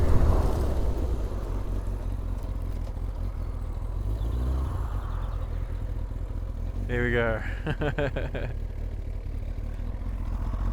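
A 1999 Kawasaki ZX-9R motorcycle fitted with a Yoshimura exhaust idles with a low, steady burble throughout, while someone speaks briefly and a sharp, pitched mechanical sweep sounds near the end.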